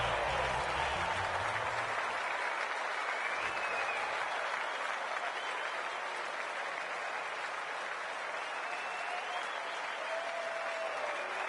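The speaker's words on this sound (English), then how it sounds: "The crowd already making plenty of noise as the captains come together." A stadium crowd in the AFL26 football video game, at a Richmond versus Coburg Lions match, roars and applauds in a continuous loud wash, with commentary speech faintly present.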